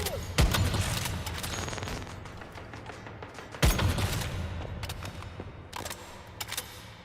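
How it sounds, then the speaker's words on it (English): Grenades going off during a fight in the game Once Human, two heavy booming blasts about three seconds apart, each followed by rumbling noise and sharp crackling impacts. "Trying to throw grenades at me."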